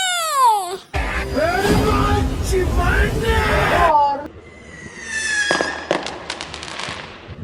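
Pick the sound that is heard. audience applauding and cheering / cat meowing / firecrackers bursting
firecrackers bursting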